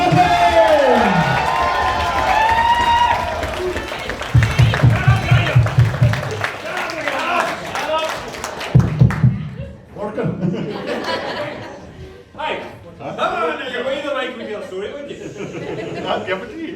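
Wedding guests cheer and clap for the groom. A loud burst of cheering comes first, then bursts of rhythmic clapping, with shouting, laughter and talk over the crowd.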